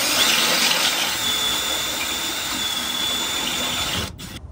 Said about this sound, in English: So now I'm just drilling the holes into the frame to mount up the bracket. I'm pre-drilling them with a step drill bit going to 11/32.